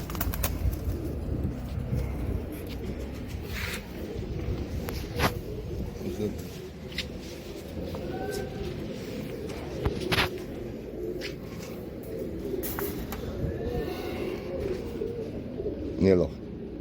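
Pigeons coo softly and repeatedly in the background while someone talks nearby, with occasional wing flutters and rustling.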